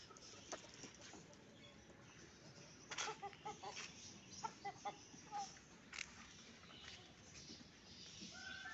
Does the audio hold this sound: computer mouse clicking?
no